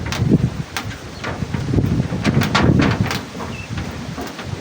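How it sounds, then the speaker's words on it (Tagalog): Strong wind buffeting the microphone in loud, uneven gusts, with rustling and rumbling throughout and no one speaking. "Lakas ng hangin mga tol."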